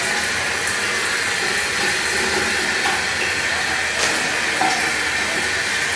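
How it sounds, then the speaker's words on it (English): Steady broadband hiss of shower water running inside a bathroom, continuous and fairly loud throughout with no talking. "For those that only hear shower water"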